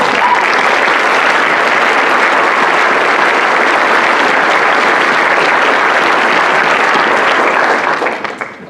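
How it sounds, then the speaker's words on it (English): Loud, dense applause from the audience at a police academy graduation ceremony holds steady for several seconds, then fades away quickly at the end. "So please give him a round of applause."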